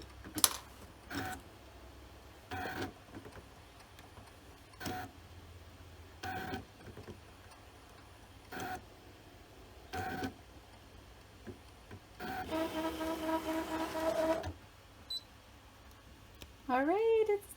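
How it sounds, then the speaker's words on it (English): A Brother ScanNCut SDX125e cutting machine with an auto blade cuts little circles, giving faint, evenly spaced clicks and short whirring bursts, with a longer buzzing run near the end. "It probably will go in and cut the little circles now."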